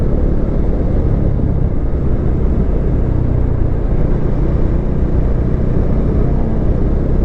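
A Modenas Dominar 2021 motorcycle cruising in fourth gear on a gravel-strewn road, its engine a steady, loud low drone blended with heavy wind rumble, continuous and unbroken with no voices.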